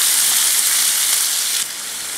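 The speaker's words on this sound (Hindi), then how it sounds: "अब इसमें 1/2 चम्मच जीरा मिलाना है और साथ ही में इसमें हम प्याज मिला देंगे।" Cumin seeds and onions fry in hot oil in a kadai for paneer curry, a loud continuous bright sizzle close up that eases slightly near the end.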